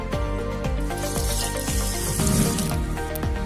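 Water pours steadily into a bowl of rice set to soak for white paniyaram batter, a continuous splashing gurgle with rhythmic bubbling pulses, close and alone.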